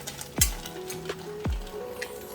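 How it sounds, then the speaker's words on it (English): Chopped garlic frying for chicken fried rice, a soft steady sizzle broken by two sharp metallic clinks of a utensil against the pan and light stirring scrapes. "Adding chopped garlic. Fry until it's aromatic."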